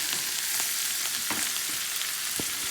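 Butter sizzles steadily in a hot cast iron skillet readied for a flat iron steak, a dense continuous frying hiss with a few soft scrapes and stirring knocks, close and fairly loud with no talking.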